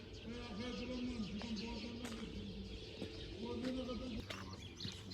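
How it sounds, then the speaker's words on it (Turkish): Birds chirp and sing continuously in the background, with repeated tuneful calls over a steady outdoor ambience; a voice speaks faintly beneath. "yukarıda güzel kuş sesleri geliyor"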